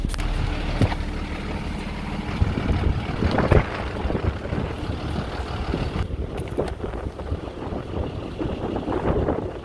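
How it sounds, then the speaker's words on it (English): Steady gusting wind roars across the microphone, a constant rumbling buffet with occasional louder bursts, no voices. "Woo, she's windy."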